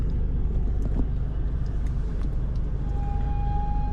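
Jammed road traffic in Ovali village, a heavy, steady low engine rumble from idling and creeping vehicles close by, with a brief high tonal whine near the end.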